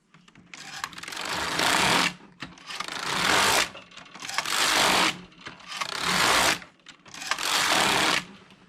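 Passap E6000 knitting machine carriage sliding across the needle bed, five long loud rasping passes of about one and a half seconds each, separated by short quiet gaps and faint clicks, with no talking.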